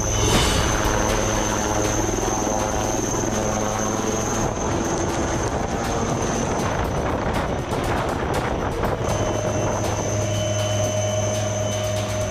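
Indian helicopter flying between high-altitude landing grounds in Ladakh, heard from inside the cockpit: a loud, steady rotor and turbine drone with a constant whine runs throughout, with no speech.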